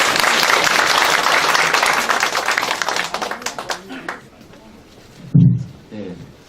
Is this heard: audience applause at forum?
yes